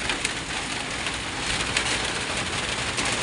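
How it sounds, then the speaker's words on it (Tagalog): Steady heavy rain in Butuan City, Philippines patters and hisses on a surface, even and continuous, with no voices. "nag-ulan naman dito sa Butuan"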